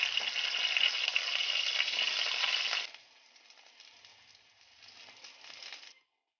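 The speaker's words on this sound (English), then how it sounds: "So I have here a fish cake, so I need to fry them." Fish cakes frying in hot oil in a pan: a loud, dense, crackling sizzle that suddenly drops to a quieter hiss after about three seconds, then swells slightly before stopping, with no voices.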